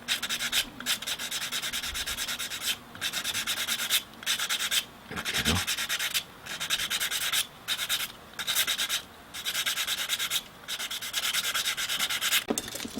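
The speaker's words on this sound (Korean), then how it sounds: "사포로 동글게 해서 조금씩 툭툭 문질러 주세요" Plastic float body being rubbed with sandpaper to round off a glued end, a steady scratchy sanding in repeated strokes broken by short pauses, close and loud, with a brief spoken phrase midway.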